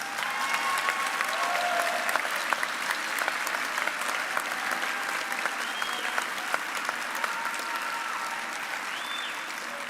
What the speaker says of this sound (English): How about we give our graduates another round of applause?